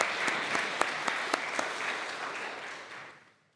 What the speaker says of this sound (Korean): 우리 하나님께 영광 박수 드립니다